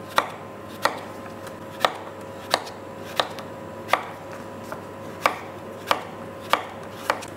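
A knife chops vegetables on a cutting board for Ma Po Tofu, with about a dozen crisp, close knocks spaced at a slow, steady pace over a quiet background, with no speech.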